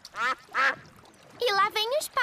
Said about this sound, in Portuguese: E lá vem os patos.